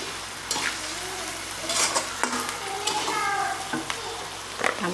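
Chicken liver sizzles steadily in a hot pan with sharp scraping and stirring strokes of a spatula, close up, no voices.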